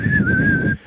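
A person whistles one steady, sustained note, close and clear, in a joyful imitation of someone whistling while working out at a gym; it lasts under a second and then stops.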